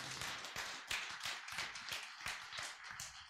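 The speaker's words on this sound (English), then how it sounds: "Let's give a round of applause." A church congregation applauds during a Sunday confirmation and baptism service, a quiet, loosely rhythmic run of separate claps that sounds fairly far away.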